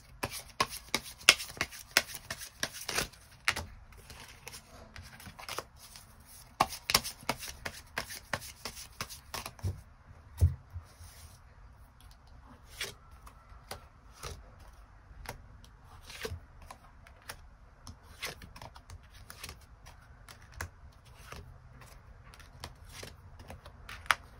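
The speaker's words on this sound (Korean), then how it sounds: "추가 카드 뽑아보도록 하겠습니다" Tarot cards are shuffled and drawn close by: quick riffling bursts and sharp card snaps come in clusters, followed by quieter sporadic taps and slides of cards, with no talking.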